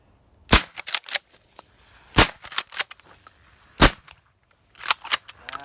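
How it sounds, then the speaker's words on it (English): Shotgun fire during a dove hunt outdoors: several loud, sharp shots spread across the clip, each followed by a short crackling echo. "Good shot, Josiah."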